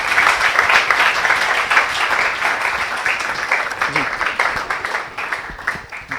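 Applause from an audience at a Hindi kavi sammelan poetry gathering, a dense steady roar of many hands clapping throughout, easing slightly near the end.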